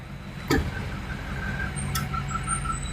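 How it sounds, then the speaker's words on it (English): Big trucks roar past on a road in a steady broadband rumble, with a sharp hiss of an air brake near the start and a thin squeal later, heard close and continuous. "Big trucks going by."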